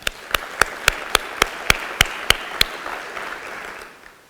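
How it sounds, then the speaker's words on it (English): Sharp, evenly spaced claps ring out close by after a technology showcase panel, roughly ten crisp beats in steady rhythm before they thin out and fade into quiet room noise. "let's give all of them a round of applause"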